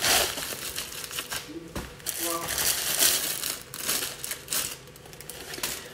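A paper envelope crinkles and rustles during a sketchbook unboxing, close and fairly quiet, with scattered crisp handling noises and brief soft speech.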